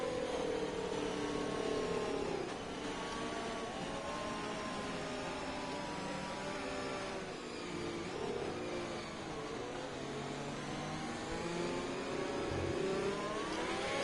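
A Formula 1 car in a racing video game on the Bahrain short circuit accelerates with a steady, high-pitched engine whine, its pitch rising and dipping through gear changes, with no talk over it.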